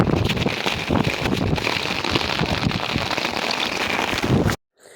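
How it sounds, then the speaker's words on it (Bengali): Heavy rain drums loudly and continuously on a fishing boat on a river, a dense roar of drops that cuts off abruptly near the end. "জোর বৃষ্টি শুরু হয়ে গেছে"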